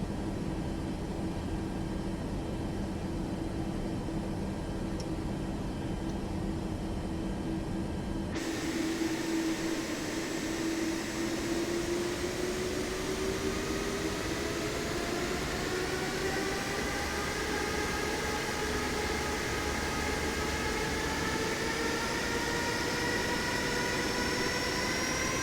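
Aircraft engine from Microsoft Flight Simulator 2024, a steady loud drone with slowly rising tonal whine, heard without talk over about twenty-five seconds after an abrupt change in the sound.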